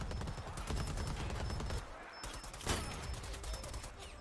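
Gunfire from a .50 cal sniper rifle in the online shooter Predator: Hunting Grounds, dense cracking shots and blasts layered over steady in-game noise, with one sharp report standing out near the middle and players' voices faintly underneath.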